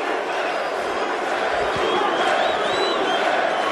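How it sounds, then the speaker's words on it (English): Boxing arena crowd in Montreal at a super middleweight IBF title fight, a dense continuous roar of yelling and cheering spectators filling the space, steady and loud throughout with rising shouts. "Crowd yelling Bute."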